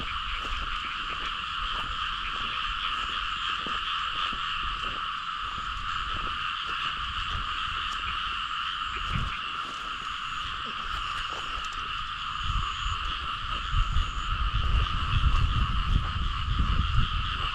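Frogs croak without a break along the muddy rim of a pond on a rainy night, a dense chorus of steady, rapid calls with a few louder nearby croaks and some splashing and handling noise near the end.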